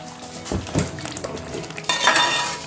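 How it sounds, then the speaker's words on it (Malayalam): A spoon stirs thick onion lehyam in a pan, with scraping strokes and light clinks against the metal over a soft sizzle, close up and without any talking. "ഞാനിവിടെ ഇളക്കുവാണ്"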